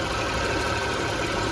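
Engine of a 2007 Honda Pilot EX with 300,000 miles idling after long sitting, a steady, close, even rumble heard alone.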